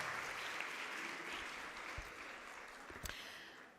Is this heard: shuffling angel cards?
no